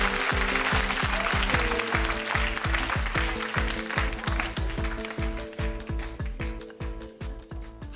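An audience applauds award recipients at a ceremony with steady clapping, while a loud, regular rhythmic beat of music pulses underneath, the clapping thinning toward the end.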